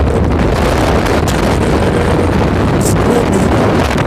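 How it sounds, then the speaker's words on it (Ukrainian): Strong wind buffets the microphone with a loud, constant roar and occasional gusty bursts, no voices. "вітер такий шалений, просто, ну, просто страшний"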